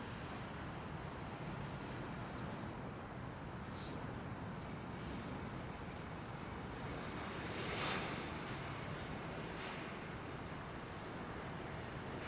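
Virgin airliner rolling down runway 27R at London Heathrow, a faint, distant broadband engine roar under steady wind and background noise, holding an even level throughout.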